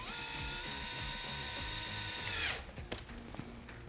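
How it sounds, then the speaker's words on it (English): A power drill whines steadily and loudly while driving a fastener into a cabinet, then slows and stops with a few clicks and rattles as the screw seats. "we'll use a drill to tighten it the rest of the way"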